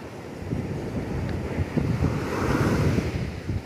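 Rough sea waves surge beside a fishing boat off the shore, a loud continuous rumble of surf with gusting wind buffeting the microphone, building slightly toward the end.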